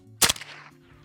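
A single loud, close rifle shot of a Fort Scott TUI 55 grain 5.56 round fired at a target, sharp crack followed by a brief fading echo.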